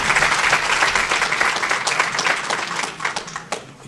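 An audience at a city election candidate forum applauds, a dense burst of clapping that starts strong and gradually thins out over a few seconds.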